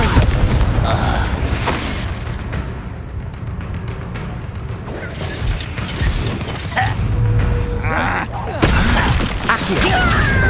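Spell-combat explosions in the game Hogwarts Legacy, the Confringo fire spell among them, sound as loud repeated booms and crashes layered with whooshes and impacts over a busy, continuous battle mix.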